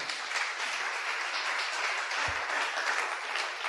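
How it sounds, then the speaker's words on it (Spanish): A church congregation claps steadily throughout, a dense and even wash of applause heard from a moderate distance with no voices over it. "¿Cuántos aplauden al Señor?"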